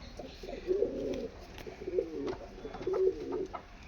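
Pigeons cooing at a seller's coop, three soft low throaty coos spaced about a second apart, close but gentle, with no talk over them.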